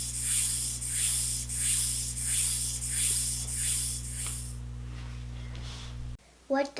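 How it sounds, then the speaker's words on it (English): Steady rasping grasshopper chirps pulse in a regular rhythm, bright and hissy, for several seconds before fading, followed by a short voice. "A grasshopper sounds like this."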